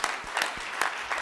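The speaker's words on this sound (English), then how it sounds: "Let's give him a round of applause." A short burst of audience applause rewards a job hunter's pitch, dense clapping at moderate volume with a few sharper accents, no voices on top.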